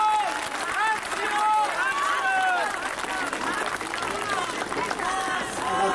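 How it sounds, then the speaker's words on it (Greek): Warm applause and crowd noise at a 2001 Greek street rally against the Pope's visit, a steady broad wash of clapping from many people with raised voices mixed through it. "Ένα θερμό χειροκρότημα."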